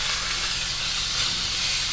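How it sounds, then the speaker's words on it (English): Steak sears in a cast iron pan with a loud, dense, unbroken hiss and sizzle that stays steady throughout, close up, with no talking. "So he's going to let this sear on both sides,"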